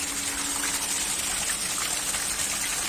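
Water gushes steadily out of a backyard pool filter during a backwash, flushing sediment from the filter in a dense, continuous rushing spray with a faint steady hum beneath, close and unbroken throughout.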